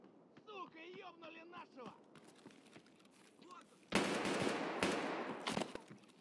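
Escape From Tarkov gunfire: after a few seconds of quieter talking, a loud, close burst of automatic fire erupts and rattles on in rapid succession until the end.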